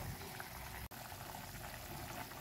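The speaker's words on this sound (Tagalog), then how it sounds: "Pakuluin yan para maluto na siya." Laing, taro leaves stewed in coconut milk, bubbles in a pot over the heat, a steady, dense simmering hiss with soft popping that runs without a break from start to finish.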